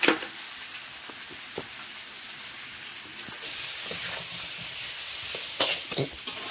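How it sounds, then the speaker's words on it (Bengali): Potato pieces frying in hot oil with salt and turmeric, a continuous sizzling hiss that swells partway through, with a few scattered clinks and stirs from the pan. "এবারে আলুটা ভাজবো, লবণ আর হলুদ দিয়েই ভাজবো।"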